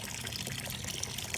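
Clean water trickles and splashes through PVC pond filter plumbing on a fish pond barrel setup, a soft, steady, close flow of bubbling liquid with no voices.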